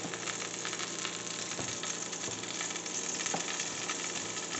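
A seared beef roast sizzling in a hot pan, steady close crackling and hiss with a few soft stir or scrape knocks, moderately loud and continuous with no talking.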